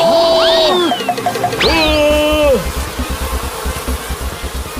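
Cartoonish buzzing of a bee swarm, steady and loud, following a few swooping whistle-like tones.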